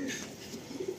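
A Madrasi pigeon gives a short, close, soft cooing call lasting about a second, with no other sounds around it.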